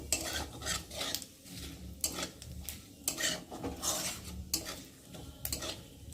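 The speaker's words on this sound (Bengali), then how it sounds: "তেজপাতা আর জিরেটা একটু ভালো করে ভেজে নেব।" Bay leaves and whole cumin seeds fry in hot oil in a pan, giving a faint continuous sizzle. Repeated scraping and clinking of a stirring spoon runs through it in uneven strokes, with no voices.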